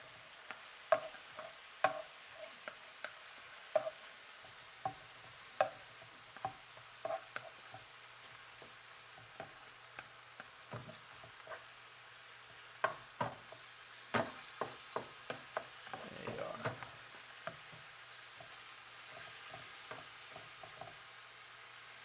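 Philly cheesesteak meat fries in a frying pan as pieces get flipped, a faint steady sizzle punctuated by scattered sharp spatula scrapes and taps, with a denser clatter of stirring near the middle.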